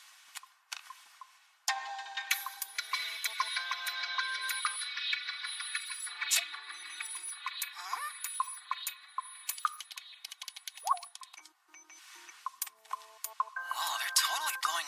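A phone rings and chimes repeatedly with a flood of incoming calls and notifications, a dense run of electronic tones and pings that keeps going for several seconds.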